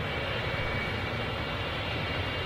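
An airplane at an airport runway, a steady loud broadband engine roar that holds evenly throughout with no voices over it.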